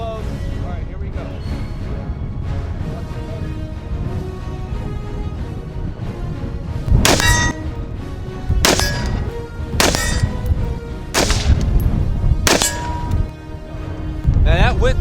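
Rifle shots from an LMT Defense MARS-L fired at a target come as about five or six sharp, loud reports spaced one to two seconds apart, over a continuous background of voices and ambient noise.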